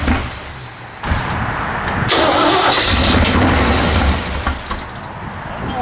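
An AMC V8 hot rod engine on a wood chipper, primed before cranking, turns over and catches, settling into a loud, close, rough rumble that runs unevenly for several seconds.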